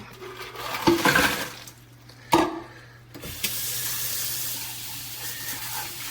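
Running tap water rinses a Nostalgia 3-quart iced tea brewer, bursts of splashing and hiss as water hits the plastic, stopping briefly, then a steady stream pouring on without talk.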